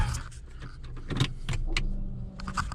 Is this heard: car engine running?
yes